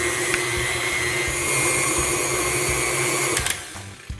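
A steady, close electric mixer whir runs nearly throughout as it beats room-temperature mascarpone cheese for tiramisu, then cuts off near the end with a couple of small knocks; no talking.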